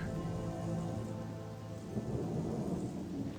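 Rain pours steadily in the forest setting of the game Gothic Chronicles of Myrtana: Archolos, a dense even hiss with a low rumble beneath, continuous and fairly loud, with no voices.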